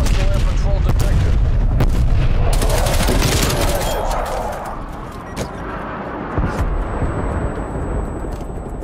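Deep booming explosions from an artillery strike in Call of Duty Black Ops Cold War, a dense barrage of blasts and gunfire-like cracks that rumble loudly, then ease into a quieter tail with scattered hits.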